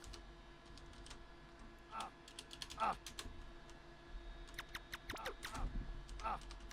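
Light computer keyboard typing in a quiet room, scattered bursts of soft key clicks at close range with short pauses between them, faint and without speech over it.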